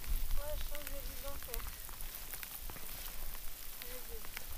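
Steady rain patters down on a high mountain trek at around 4000 metres altitude, a dense hiss throughout, with voices speaking briefly over it.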